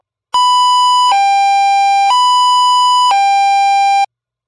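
A LAMPHUS SoundAlert siren gives a loud, piercing warning tone that switches between a higher and a lower pitch about once a second. It sounds close and alone, then cuts off cleanly.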